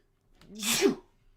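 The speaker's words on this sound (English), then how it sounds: "I'm about to sneeze again." A single person's sneeze, close and loud, with a short sharp intake followed by a burst of breathy noise, alone without talk.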